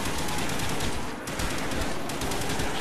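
Sustained automatic gunfire from a weapon in Call of Duty Black Ops Zombies on the Der Riese map, a loud continuous rattling stream with only a brief dip partway through.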